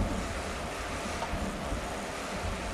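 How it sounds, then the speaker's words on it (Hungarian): Rain falls in Farming Simulator 19, a steady broadband hiss with a wind-like rush, continuous and fairly loud with no voices. "hadd essen az eső"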